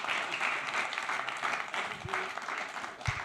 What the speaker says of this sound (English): Ladies and gents, a round of applause.